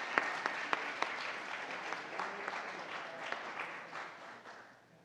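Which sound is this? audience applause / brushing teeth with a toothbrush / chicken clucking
audience applause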